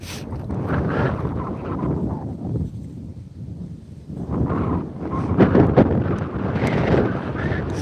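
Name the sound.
wind on ice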